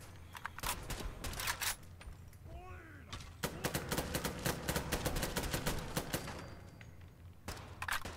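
Semi-automatic fire from an IMI Galil rifle in a Fallout 4 mod, sharp single shots cracking out in irregular bursts with a brief lull, heard alongside someone talking.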